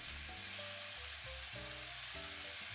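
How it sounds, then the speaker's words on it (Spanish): Eggplant sautéing in a frying pan while being stirred often, a steady close sizzle filling the clip with no talk, with steady tonal hum lines underneath. "agregaremos la berenjena y la iremos moviendo con frecuencia durante unos 3 o 4 minutos para que también se sofría"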